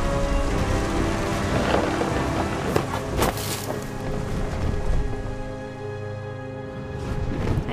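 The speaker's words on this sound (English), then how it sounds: "thunder sounded much too close and full of angry power" Rain falls steadily throughout a thunderstorm in the video game What Remains of Edith Finch, with a few close, sharp cracks and rumbles of thunder rising above the downpour.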